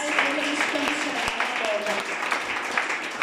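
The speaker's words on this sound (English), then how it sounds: "Let's clap our hands for Jesus." Steady hand clapping from a worshipping church congregation, a dense, even wash of many hands at middling volume, with some voices underneath.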